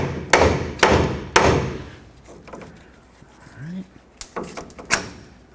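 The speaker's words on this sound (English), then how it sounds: "I'm just going to use my hammer, come right up in between this area here and cause some vibration to break it free." A hammer strikes a tie rod end on a 1988-2000 Chevy C/K1500 to break it free: three loud, sharp metallic blows in quick succession, then quieter knocks and a final cluster of hits.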